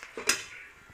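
Thawing frozen minced meat for a polenta ragù being stirred in a pot, with a spoon scraping and clinking against the metal in a couple of brief, close knocks over a quiet background.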